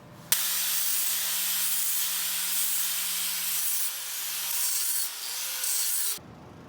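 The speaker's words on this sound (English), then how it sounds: "you're going to want to shape and deburr these with a grinder to smooth this out and round it out" Grinder deburring and smoothing cut silverware pieces, spoon bowls and fork tines, for scrap-metal art: a loud, steady, high abrasive hiss running unbroken for about six seconds with slight shifts in pitch, then cutting off abruptly.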